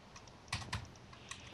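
A few faint, quick keystrokes tap on a glitching wireless computer keyboard with nearly dead batteries, two sharper clicks close together and another shortly after, with quiet gaps.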